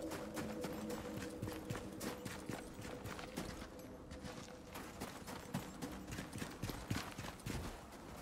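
Horse hooves clip-clop in a quick, steady rhythm in the video game Icarus, faint and continuous over a low droning background.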